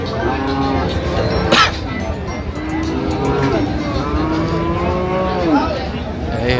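Shahiwal bull calves low and drawn out at a cattle market, several moos rising and falling over a steady crowd murmur, with one sharp bang near the start.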